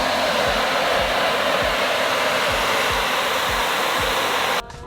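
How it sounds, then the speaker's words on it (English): Two hair dryers blast into the insides of motocross boots at a race in Thailand, a loud steady whirring roar that runs unbroken before cutting down near the end. "We got the double dryer going. Got the inside of the boots going in yesterday."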